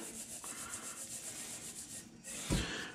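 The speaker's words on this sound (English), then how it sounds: "I don't want to really rub too much more. I'm just trying to sort of spread it out." Hands spreading a dry curing mix over a slab of raw pork belly for pancetta make a soft, steady rubbing and scraping, quiet and close, with a brief heavier brush near the end.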